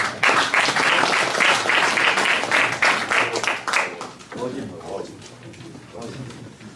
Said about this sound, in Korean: 중간 박수 한번 보내주시고요